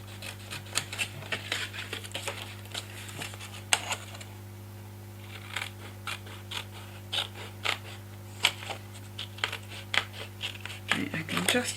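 Scissors cut paper for a junk journal in a series of crisp, close snips in irregular bursts over a steady low hum, with someone talking at intervals.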